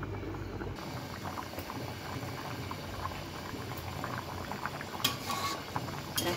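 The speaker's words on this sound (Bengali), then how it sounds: "আমি একটু ঢেকে দেবো যাতে অন্যান্য সবজিগুলো একটু সিদ্ধ হয়ে যায়।" A covered pot of rohu fish curry with vegetables bubbles steadily at a low boil, a continuous close simmering hiss with a few brief lid rattles near the end and no talking.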